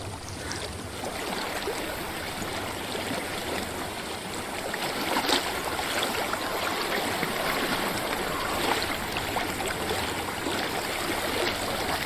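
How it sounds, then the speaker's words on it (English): Flowing stream water in the video game Hellblade: Senua's Sacrifice, a steady rushing trickle that fills the whole stretch, fairly loud and close with small splashy accents, no voices over it. "I hear water. Go to it."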